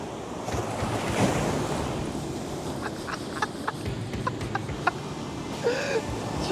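Ocean waves surge and break steadily on a beach along the Big Sur coast in California, with a continuous roar of surf and gusty wind noise against the microphone, with no talking.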